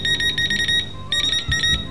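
Electronic fishing bite alarm beeping on a Ukrainian TV morning show: two loud bursts of rapid, evenly pulsed high beeps, separated by a short pause.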